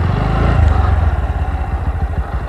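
A Bajaj Pulsar NS 125 BS6 motorcycle engine runs up close, a loud rev that swells then settles back into a throbbing, uneven idle with some mechanical clatter.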